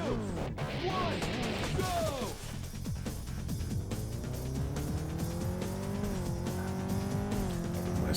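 A car in the PlayStation 2 racing game Burnout 2 revs and accelerates with rising engine tones and tire squeals, loud and continuous, with an early crash-like burst and someone talking over it.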